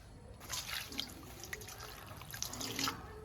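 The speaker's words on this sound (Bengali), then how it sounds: "পাতাগুলো ভালো করে আগে ডলে ডলে ধুয়ে নেব" Pumpkin leaves are rubbed and washed by hand in water, giving soft splashes, drips and trickles close by over a continuous low background.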